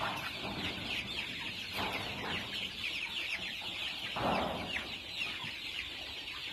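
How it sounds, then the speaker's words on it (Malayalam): A flock of Gramapriya roosters and chickens clucks continuously at a moderate distance, with overlapping calls and a slightly louder burst midway, and no voices. "അപ്പോൾ ഇതാണ് എൻ്റെ ഗ്രാമപ്രിയ പൂവൻ കോഴികളുടെ ശേഖരം"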